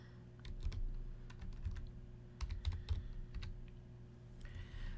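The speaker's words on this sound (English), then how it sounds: "I'm gonna start with typing out weapon skill." Someone types on a computer keyboard, a quiet, irregular run of light keystrokes in bursts and pauses over a low steady hum, with no talking.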